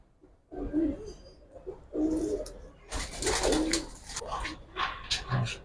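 Giribaz pigeons coo in a series of low, throaty bursts nearby, with some rustling and brief other noises between the calls.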